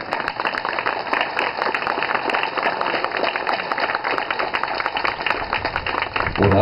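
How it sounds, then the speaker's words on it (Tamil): An audience at a literary talk in Tiruvannamalai applauds in a continuous, dense wash of clapping that holds steady for several seconds, moderately loud with a roomy, crowded texture. "தயவு செய்து எந்திரிச்சு அந்த மாதிரி கைதட்டுங்க ப்ளீஸ்"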